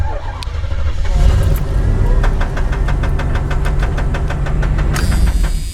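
Car engine cranking and knocking after an oil change, a loud close mechanical clatter with rapid regular ticking knocks over a rough running rumble, with a voice briefly heard.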